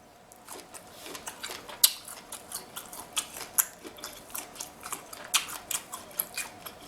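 Someone chews shrimp close to the mic, a steady series of soft wet crunches and bites repeating about twice a second, with no talking.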